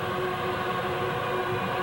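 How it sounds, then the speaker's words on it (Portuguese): A dense, steady drone of thousands of plastic horns blown at once by Flamengo fans at the Maracanã during a football final, a continuous buzzing blare with no breaks. "é a torcida do Flamengo soprando a corneta"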